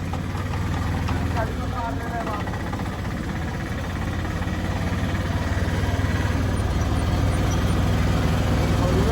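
An auto-rickshaw with two passengers in the back drives toward a temple in Nathdwara, and its engine keeps up a steady, loud, low rumble throughout, with faint voices underneath.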